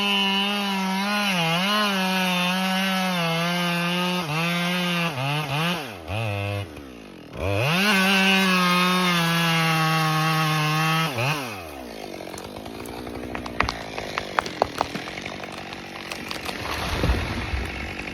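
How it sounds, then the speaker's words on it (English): A chainsaw cuts deep into a large tree trunk in a forest, its engine droning loud and steady, dipping and revving between passes, then falling into rougher, scraping bursts near the end as the wood gives. "a worker operates a chainsaw, cutting deep into a large tree trunk"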